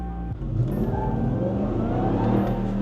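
A Dodge RAM TRX pickup with a 700-horsepower engine accelerates hard. The engine note builds loud and steady from about half a second in and stays strong to the end, with no voices.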